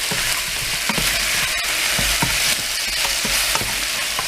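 Hot oil sizzles steadily in a pot while chicken tinola is being started, a loud continuous frying hiss with small crackles and pops throughout.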